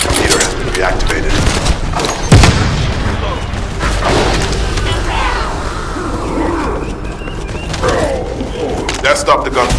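Rapid gunfire and heavy booms rattle through a battle in the video game The First Descendant, steady and loud with one sharp blast standing out, while voices talk over the combat.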